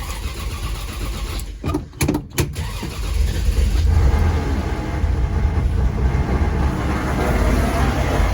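A 1966 Dodge Dart GT engine cranks in a few short, choppy bursts, then catches and settles into a loud, steady running rumble that continues to the end.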